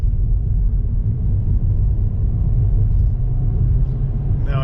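A 2023 Kia Forte GT Line pulls away from a stop under moderate throttle, its engine a steady low rumble from inside the car that holds even throughout.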